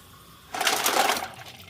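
Boiled noodles and their hot cooking water pour through a sieve in a home kitchen, a brief splashing rush that swells and then tapers off.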